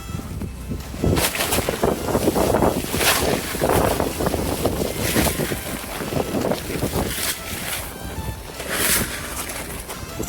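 Strong gusts of wind buffeting the microphone outdoors in thick Canadian snow, surging in heavy rushing bursts and easing between them.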